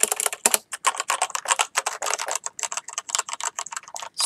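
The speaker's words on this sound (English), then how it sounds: "This is my old keyboard." Rapid, uneven clatter of keys being typed on an old computer keyboard, close and fairly loud, with brief pauses between bursts.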